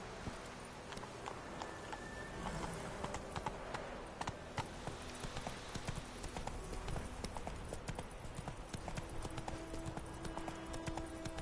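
Roach the horse trotting in The Witcher 3, with a quiet, steady clip-clop of hooves running through the whole stretch over low game ambience.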